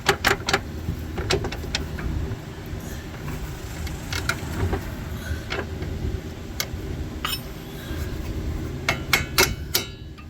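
Bolts are fitted into the strut holes of a 2002-2006 Honda CR-V during a front passenger strut replacement: scattered sharp metallic knocks and taps, close and irregular, over a low background rumble, with no talk.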